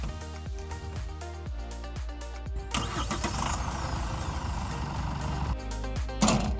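A Chevrolet Colorado pickup engine starting remotely with a smart key: a sudden rush as it turns over partway through, then a steady running rumble, heard under a rhythmic musical backing.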